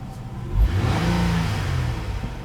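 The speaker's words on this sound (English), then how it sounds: "Let's first rev the engine and see the sound." Nissan Murano 2017 SUV with a 24-valve 3.5-liter V6 engine and CVT, revved once while stationary; close, fairly loud, the engine note rises into a rev and then settles into a steady hum.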